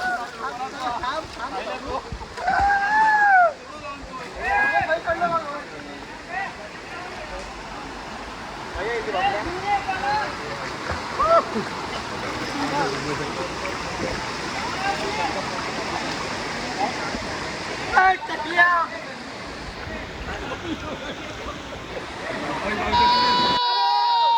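Kasartaka waterfall pours in a steady broadband roar of falling water throughout, with people talking and shouting over it near the cascade.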